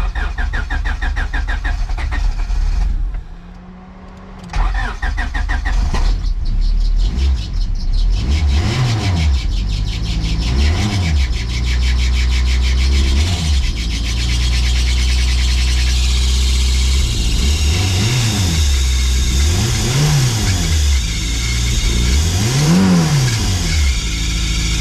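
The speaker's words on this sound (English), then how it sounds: "So this is on a cold start." A Honda Civic EG hatchback with an H2B turbo setup cold-starts with a sticking throttle body: loud close engine noise with a brief dip and then repeated rises and falls in revs over a high idle.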